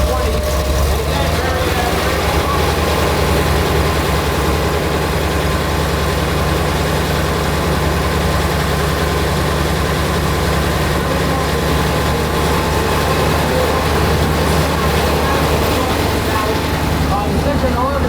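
An M20 armored car approaches at a military vehicle tanker weekend at an armor museum, its engine giving a steady, heavy low rumble that stays loud throughout, with crowd noise and voices mixed in.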